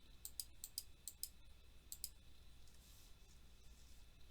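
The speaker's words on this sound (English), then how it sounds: "I'm going to click to the next slide just for a minute." A quiet computer mouse clicks lightly several times in quick succession over a faint room hum, then the room settles into near silence.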